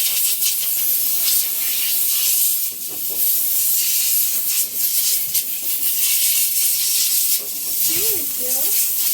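A household steam cleaning device with a cleaning head attachment gives a steady, loud broadband hiss throughout, with a brief faint voice near the end.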